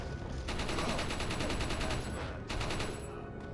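Gunfire in Resident Evil 4 comes as a loud rapid automatic burst lasting over a second, a short pause, then a second quicker burst, dense and close.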